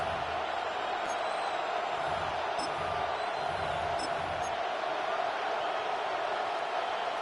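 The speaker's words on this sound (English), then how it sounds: "This crowd into it now as we get to third down." A stadium crowd at a football game roars steadily as play nears third down, a dense, continuous wall of cheering and noise with faint higher whistles and shouts rising out of it, and talk mixed beneath.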